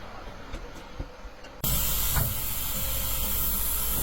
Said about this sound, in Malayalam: കുക്കറിൽ മഞ്ഞൾപ്പൊടിയും ഉപ്പും എല്ലാം ഇട്ടിട്ട് നന്നായിട്ടൊന്ന് വേവിച്ചെടുക്കണേണ്ട